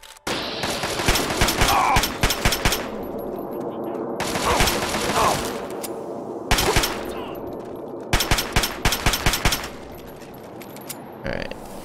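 Enemy gunfire in Fallout 3 comes in several loud bursts of rapid automatic shots, separated by short lulls, with faint game sounds between them.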